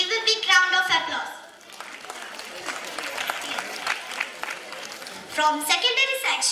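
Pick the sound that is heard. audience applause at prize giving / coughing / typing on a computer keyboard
audience applause at prize giving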